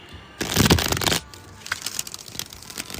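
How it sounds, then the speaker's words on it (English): A deck of tarot cards is shuffled by hand close up, with a dense riffling burst followed by quieter, irregular card flicks and slides. "Alright, enough shuffling, right?"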